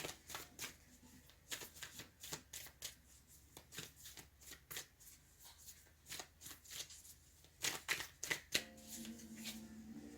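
A deck of tarot cards is shuffled by hand, repeated close papery riffles and slides in quick irregular bursts over a faint steady background hum.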